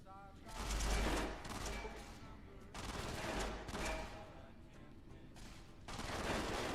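Rapid small-arms gunfire in the video game Fallout: New Vegas, fired in sustained bursts that come in waves and fade between them, close and loud, with a voice talking over parts of it.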